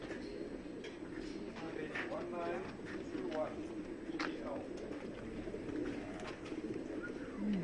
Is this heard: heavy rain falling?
no